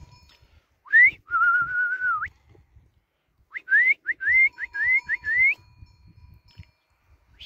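A shrill shepherd's whistle: one rising note, a long held tone, then a run of short rising chirps, with faint rustling and movement underneath.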